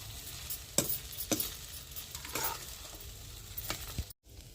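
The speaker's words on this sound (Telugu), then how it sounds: "మంచిగా అయితే కలబెట్టేస్తా" Beaten rice atukula upma being mixed with masala in a pan, quiet scraping stirs with a few sharper spoon knocks over a faint sizzle, no voices.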